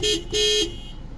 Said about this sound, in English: Let's honk the horn in 3,